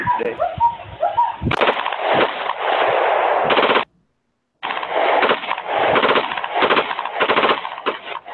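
Rapid bursts of gunfire from a Glock pistol fired on a bump-stick rig of plywood and a wooden dowel, loud dense strings of shots with a brief pause in the middle.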